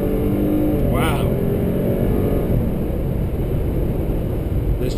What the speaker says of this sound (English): This vehicle has some get up and go, and it is very, very quiet, very, very smooth, and very responsive.